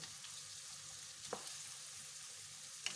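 Betong yellow noodles stir-fried in a pan give a quiet, steady sizzle, broken by a couple of brief scraping stirs, with no one speaking.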